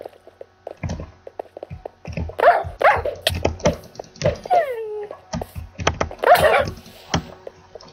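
Dog barking in a Minecraft survival game, a string of sharp barks with yips and a whining glide, loud and close, broken by gaps and other game noises.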